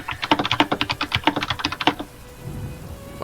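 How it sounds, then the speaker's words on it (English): Loud computer keyboard typing picked up close by a turned-up microphone: a fast run of crisp, uneven key clacks for about two seconds, then stopping abruptly and leaving a low, quiet background rumble. "Wow, loud keyboard."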